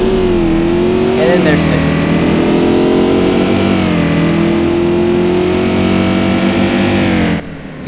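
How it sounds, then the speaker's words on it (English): Holden HSV Maloo V8 engine in a driving game, revving steadily and climbing in pitch as the car accelerates hard on an open test track, loud and continuous with someone talking over it. "V8 propelling me to 120 in that short distance"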